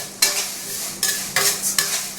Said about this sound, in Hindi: ये लगा रहे हैं तड़का